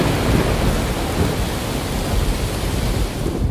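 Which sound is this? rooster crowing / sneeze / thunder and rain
thunder and rain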